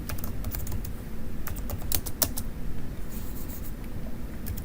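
Typing notes on a computer keyboard while annotating an engineering drawing, a close, steady patter of key clicks with a few sharper strikes over a low background hum.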